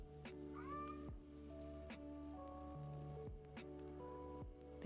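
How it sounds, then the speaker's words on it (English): A cat in heat meows loudly and repeatedly, with long drawn-out, wavering calls close by, several cries in a row and no talking. "the cat's in heat. I'm sorry, I can't help that."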